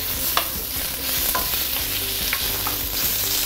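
Pork lard frying in a hot stainless steel wok over medium-high heat, a dense even sizzle punctuated by a few light clicks from a spatula.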